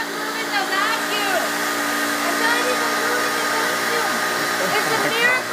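A brand-new vacuum cleaner runs continuously at high power while stationary, giving a loud, steady whine close to the listener.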